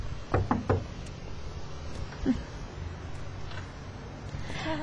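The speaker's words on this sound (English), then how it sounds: "We're just going to knock on her door" Knuckles rap on a house's front door: three quick knocks, a pause, then a single knock, close and sharp against a quiet background.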